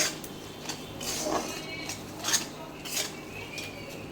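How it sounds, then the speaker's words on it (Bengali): Spice masala with Kashmiri chilli powder and salt being stir-fried in a pan, marked by repeated metallic scrapes and clinks of a spatula against the pan, a few louder strokes spaced through a quiet background. "মশলাটাকে ভালো করে আমি কষিয়ে নেব"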